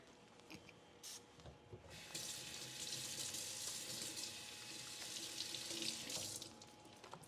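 A kitchen tap runs into a sink while hands are washed under it, a soft steady rush of water after a few light clatters, fairly quiet and with no talking.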